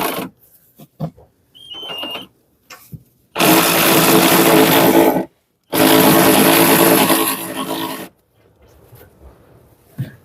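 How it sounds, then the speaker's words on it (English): An electric ratchet removes a bolt on the side of a Kia Spectra EX during a CURT Class 1 tow hitch install, two loud sustained whirring bursts of about two seconds each, separated by brief pauses and faint handling clicks. "I'm going to take this electrical ratchet up here, and I'm going to remove this bolt on the side"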